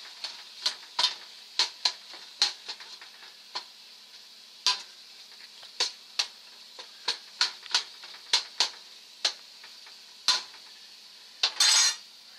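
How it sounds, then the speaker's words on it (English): A spoon stirs soup ingredients in a pot on the stove, with a steady series of sharp metallic clinks and scrapes at irregular intervals, close and clear, ending in a brief rattling flurry. "Now we're just going to go ahead and mix all this up and let it do its thing"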